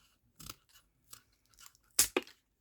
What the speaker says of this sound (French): on va couper en angle comme ceci